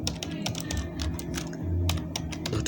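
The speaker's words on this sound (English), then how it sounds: "Then I'll type now the email," Fingers type on a computer keyboard in quick, irregular bursts of close, crisp keystrokes, with soft background hum and no talking.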